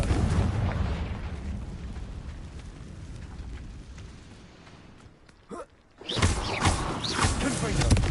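The Confringo blasting curse in Hogwarts Legacy on PS5 fires with loud booming explosive bursts, a rumbling blast fading out, then a sharp crack and a renewed loud burst; a voice is heard.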